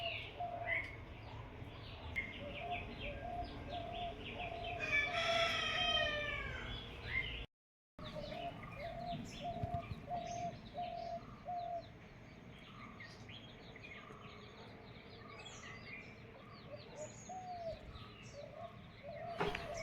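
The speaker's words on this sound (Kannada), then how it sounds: "ಇವತ್ತು ಬೆಳಿಗ್ಗೆ ಹಕ್ಕಿಗಳ ಸೌಂಡ್ ತುಂಬ ಜೋರಿದೆ." Loud morning birdsong with repeated cooing, chirps and calls from several birds, steady and close through most of the stretch, with a brief silent gap midway.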